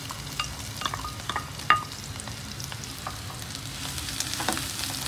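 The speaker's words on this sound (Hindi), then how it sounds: "प्याज की दोनों सोते करनी है" Chopped onions sauté in a pan, a soft continuous crackling sizzle with faint scraping stirs and one sharper clink near the middle, no speech.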